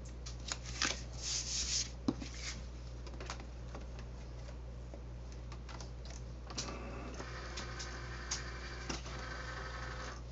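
A Cricut Explore One cutting machine cuts a label shape from blue cardstock, giving a steady low hum with soft ticking and scraping from the blade carriage, close and continuous for several seconds.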